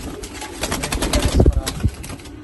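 Racing pigeons in a loft coo softly in short repeated bursts, close by, with faint rustling and possible wing movement around them.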